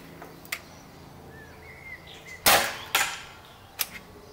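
Omega LS dart blaster kit fires a dart with a sharp, loud pop, followed by a second strong snap and a fainter third click, with small mechanical clicks before it in a quiet room.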